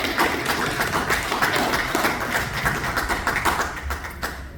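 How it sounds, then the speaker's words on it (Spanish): Sustained audience applause for a speaker at a formal presentation on the Virgin of Copacabana and coins, steady dense clapping filling the whole stretch without pause. "Un aplauso para Daniel Oropesa"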